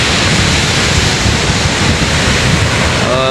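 Big ocean waves crash on the shore in a loud, continuous roar of surf that fills the whole stretch with dense wash and wind noise.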